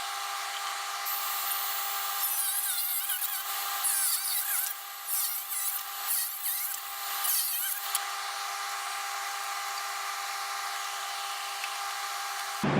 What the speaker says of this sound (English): I cut both ends so that I'd have 2 square ends at the very least to work with